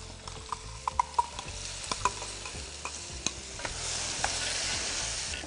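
Cumin seeds and turmeric powder sizzle in hot oil for a tempering in a home kitchen, with a steady frying hiss broken by sharp clicks of a spoon stirring against the pan.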